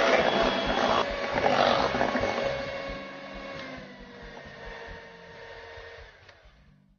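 A hand mixer whirs at high speed beating batter for kue putu ayu, a loud steady motor drone with a faint tonal whine that gradually softens and thins toward the end.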